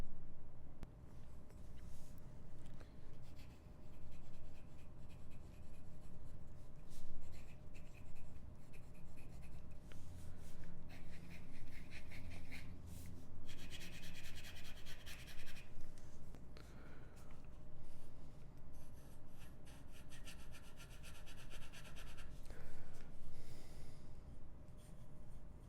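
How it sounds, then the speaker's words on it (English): A Kakimori metal dip nib scratches across paper in steady, close strokes with fine rasping texture, continuous and fairly quiet with short pauses between lines. "Next we'll do the Kakimori pen nib."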